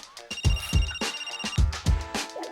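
A telephone rings with a steady electronic tone, close and prominent, against a run of rhythmic low thumps.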